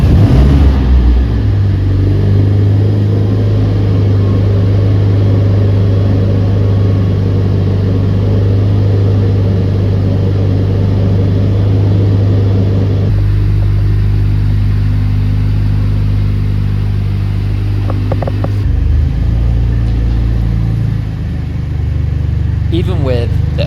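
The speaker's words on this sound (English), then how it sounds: "the new exhaust has a much deeper tone than stock" A 2020 Mercedes-AMG A45S with a titanium cat-back exhaust and stock catalytic converter idles loud and close after a first start, a deep steady drone that shifts pitch partway through and dips briefly near the end.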